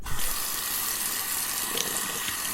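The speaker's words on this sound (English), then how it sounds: "rinse that blade off and either pat it dry on newspaper" Tap water runs steadily into a sink as a safety razor blade from a Feather Artist Club SS kamisori is rinsed, a continuous close splashing hiss with no talk.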